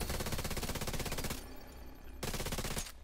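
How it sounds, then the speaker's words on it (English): Rapid automatic gunfire in The Division 2 Dark Zone combat, loud and close, two long sustained bursts broken by a short pause and ending abruptly, with no talk over them. "I'm just gonna shoot everything now"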